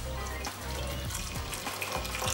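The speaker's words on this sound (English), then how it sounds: "you can always add some hot water from the kettle that you boiled for your gnocchi" Hot water from a kettle poured into a thick, creamy mushroom and king prawn gnocchi sauce in a pan, a quiet, continuous splashing pour with light sizzling underneath.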